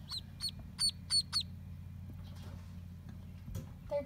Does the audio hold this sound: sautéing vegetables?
no